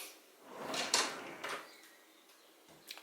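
A kitchen cutlery and utensil drawer slides and knocks shut, a few quick close clatters in the first half followed by a softer click near the end, with quiet room tone around them.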